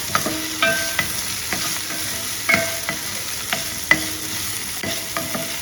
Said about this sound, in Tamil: அப்போ தான் வெங்காயம் தக்காளியெலாம் நல்லா மசிஞ்சு வதங்கும்.